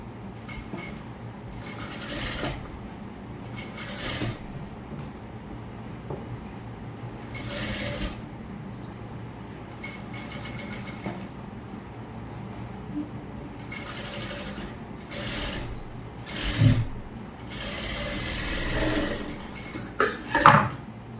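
A sewing machine topstitches a saree gown up close, running in repeated short bursts with brief pauses between them, loud and clear with no talk.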